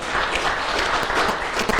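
Conference audience applauding at an outsourcing and contact center industry event in Zimbabwe, a steady dense wash of many hands clapping, moderately loud and continuous without talk.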